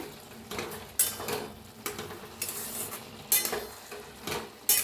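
Cooked Bhogi vegetable curry with jujube berries being stirred in a pan: rhythmic metal spoon scrapes and clinks against the pan over a soft sizzle, moderately quiet and close, no voices.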